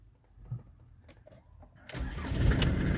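A 2005 Ford Transit 2.0 diesel engine cranks briefly, then catches and settles into a loud, steady clattering idle up close.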